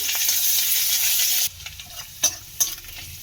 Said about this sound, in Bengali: আদা আর রসুন এখানে খুব ভালো করে ফোড়নের জন্য ভাজা হয়ে গেছে